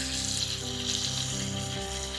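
Steady, close sizzling of chicken frying in butter in a pan, with a constant hiss and a low background hum, no voices.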